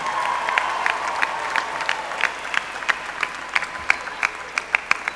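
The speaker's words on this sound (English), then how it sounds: "Let's give them a well-deserved round of applause." Applause from the audience at the 2004 MDC North Campus commencement ceremony, a sustained crowd clapping with individual sharp claps standing out rhythmically, moderately loud and fairly close.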